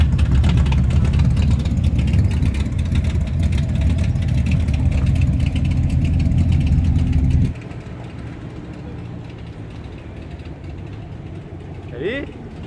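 A Chevrolet Camaro engine rumbles loud and steady at close range for about seven seconds, then cuts off abruptly, leaving quieter outdoor background with a faint high chirp near the end.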